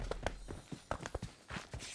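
Horse hooves clip-clop in PUBG, a run of quick uneven thuds close by that pause briefly and then resume.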